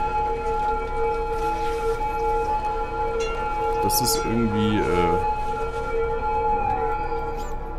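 Ambulance sirens in a busy city in the video game Cities: Skylines, heard as steady wailing tones over low traffic rumble, with a rising and falling whoop around the middle and someone talking over it.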